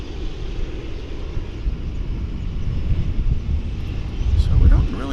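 A Delta airliner flying at DFW Airport produces a broad, steady engine roar that swells slightly louder toward the end, heard from a distance.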